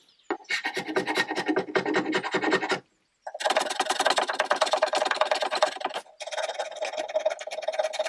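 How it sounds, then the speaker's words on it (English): Small hand scraper rasping old finish off a damaged wooden chair during restoration, with close, steady rhythmic scraping strokes in sustained bursts and a brief pause partway through. "I've been able to remove a lot of the finish, but there is still quite a lot left, so a tiny scraper it is."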